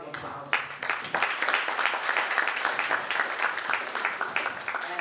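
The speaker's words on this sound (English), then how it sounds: "Let's give all of us a round of applause." Audience applause fills a conference hall at a high-level roundtable of affirmative action fund chief executives, starting abruptly after a brief voice and continuing as dense, steady clapping throughout.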